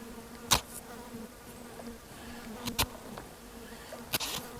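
A steady, nagging buzz of mosquitoes hovers nearby, broken by a few sharp slaps or clicks spaced apart.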